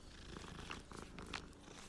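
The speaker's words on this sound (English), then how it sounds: "I hear another cat." A cat purrs softly and steadily in Hogwarts Legacy, a low continuous rumble with faint game ambience and no talking.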